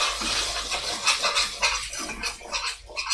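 Chicken chilli is stirred in a sticking pan, making a continuous rough scraping and shuffling with a spoon across the pan base, close and fairly loud.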